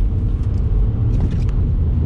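A Dacia Logan or Skoda Octavia engine pulls hard under acceleration on a test drive, a loud, steady low rumble of engine and road noise that holds for about two seconds with no talk.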